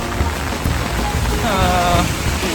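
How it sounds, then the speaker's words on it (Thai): Heavy rain pours onto a city street in Korea, a constant dense hiss of drops hitting the pavement, with a faint brief tone rising midway through the downpour. "ฝนตกฉ่ำมาก ตกทั้งวันตั้งแต่เช้า"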